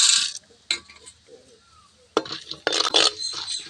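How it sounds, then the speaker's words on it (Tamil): Urad dal stirred and roasted in oil in a pan, with scattered scraping and metallic clinks of a spoon against the pan, separated by quiet gaps and followed by a louder sizzling stretch. "சரி, உளுத்தம் பருப்பும் போட்டு வறுத்துக்கலாம்."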